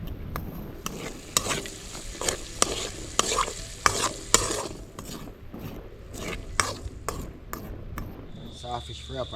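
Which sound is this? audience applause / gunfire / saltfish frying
saltfish frying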